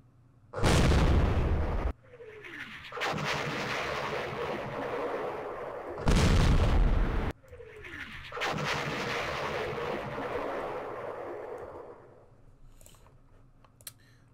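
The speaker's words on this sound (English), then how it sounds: "Here's our mortars." Mortar fire in the Vietnam war strategy game Campaign Series Vietnam: two loud blasts a few seconds apart, each trailing off into a long rumbling, crackling aftermath, with faint clicks near the end.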